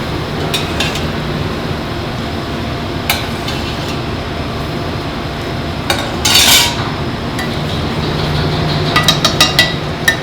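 Turkey dumpling soup with flavorful stock poured in and stirred in a pot, with light clinks of a utensil against the pot over a steady background hiss, plus a brief louder splash midway.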